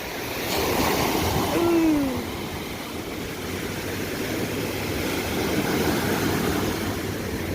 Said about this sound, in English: this is the ocean, what we call it.